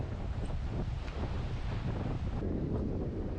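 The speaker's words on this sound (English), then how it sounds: "it's a little bit breezier, windier than yesterday" Wind buffeting a microphone at Huntington Beach State Park, a steady broadband rumble with surf blended in, continuous and fairly loud throughout with no talk.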